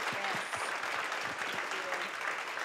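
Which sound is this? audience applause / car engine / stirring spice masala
audience applause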